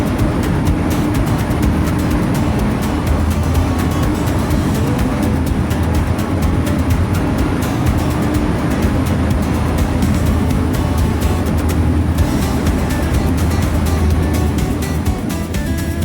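Ruhunu Kumari passenger train running from Galle to Colombo: a loud, steady rumble and rattle of wheels and carriages heard from inside, close and unbroken, with no voices.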